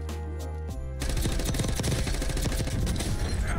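Loud, dense automatic gunfire in Black Ops 6 Warzone kicks in after a brief steady tone and continues as a rapid, unbroken stream of shots.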